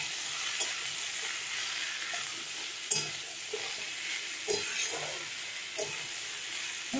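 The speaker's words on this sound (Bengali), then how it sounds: "এবারে আগে থেকে কেটে রাখা লাউগুলো দিয়ে দেবো। এবার এইগুলোকে ভালো করে একটু মিশিয়ে নেবো।" Cut bottle gourd frying in a pan, with a steady sizzle running throughout and occasional scraping knocks from stirring. The cooking sounds close and moderately loud.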